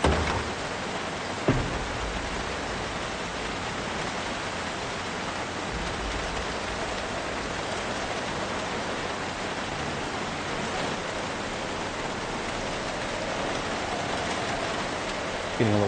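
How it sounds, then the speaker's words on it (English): Heavy rain pours down in the survival video game Project Zomboid, a dense constant hissing roar that fills the whole stretch evenly, with a brief knock near the start and no talking. "Getting a little hard to hear myself think with all this rain noise."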